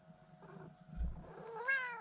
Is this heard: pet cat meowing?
yes